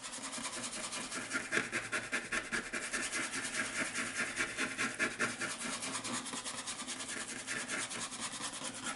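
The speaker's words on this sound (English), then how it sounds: "now I take my bristle brush and I'm blending all parts" A bristle brush is rubbed steadily back and forth across a pastel pencil drawing of an animal, giving a continuous dry scratchy brushing texture that holds close and even throughout.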